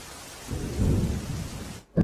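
Heavy monsoon rain pours down in a dense, steady wash with a deep rumble beneath it, then briefly thins out, during days of nonstop rain and street flooding in Junagadh, Gujarat.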